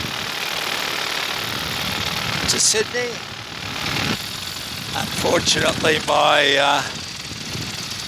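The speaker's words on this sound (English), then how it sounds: "my engine causes the camera to vibrate when my engine is just idling, which it is now" A paramotor engine idles in flight during ridge soaring, a steady droning rumble with wind noise running throughout, while someone talks over it in the middle and later part.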